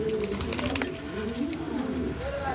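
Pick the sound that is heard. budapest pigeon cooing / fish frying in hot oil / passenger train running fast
budapest pigeon cooing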